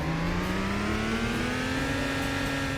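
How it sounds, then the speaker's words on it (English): A car launching from a standstill in the Roblox-style driving game Greenville, its engine tone rising steadily as it accelerates, a continuous smooth whine heard up close with no talking. "let's try and launch this thing"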